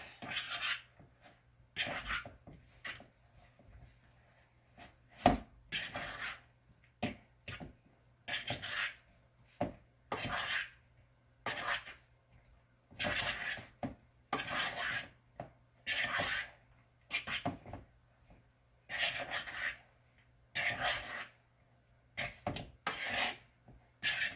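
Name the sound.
fork scraping a bowl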